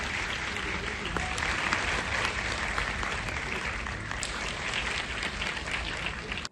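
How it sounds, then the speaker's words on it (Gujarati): Sustained, dense applause from a large audience at a ceremony handing appointment letters to anganwadi workers and helpers, a steady loud roar of clapping that holds for several seconds before cutting off. "જોરદાર તાળીઓથી વધારી દઈએ."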